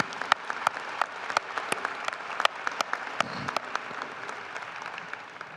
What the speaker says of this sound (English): How about a round of applause for Suleiman anyway?